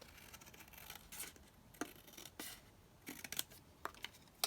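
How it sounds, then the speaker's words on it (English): Scissors snip along the edge of a paper folio, a series of faint, close crisp cuts in an irregular rhythm with soft rustling between them. "Okay, so I'm going to cut this edge down."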